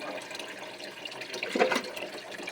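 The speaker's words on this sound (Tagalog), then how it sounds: "Ito na po yung tubig na aking inilalagay." Water poured from a dipper into a cooking pot, a steady quiet splashing that swells to a fuller gush partway through and then continues softly, with no voices.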